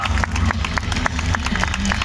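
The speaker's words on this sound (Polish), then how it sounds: "Adrian Stachura, duże brawa." A crowd at a stuntman show claps steadily and loudly in rhythmic applause, with background crowd noise and an announcer's voice underneath.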